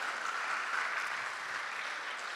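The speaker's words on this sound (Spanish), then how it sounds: "Le damos un aplauso al Señor por su palabra" Soft, distant applause from a church congregation rolls on evenly, a steady wash of clapping with no voices.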